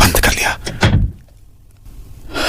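A house door is pushed shut in a quiet home, a single muffled thunk following a few loud movement noises up close, then near silence.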